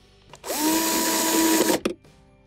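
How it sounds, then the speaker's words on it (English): A power driver briefly spins a number two Phillips screw back into a Samsung refrigerator's ice dispenser assembly, one close, steady whirring run of about a second and a quarter, ending in a short final burst before quiet. "then we will reinstall our number two Phillips screw"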